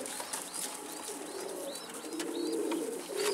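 Pigeons coo in a loft where young birds are being raised, soft repeated rising coos over a steady background hum and faint rustle, heard at moderate distance without talk.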